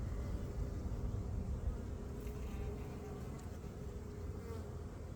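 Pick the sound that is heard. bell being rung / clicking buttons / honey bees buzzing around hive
honey bees buzzing around hive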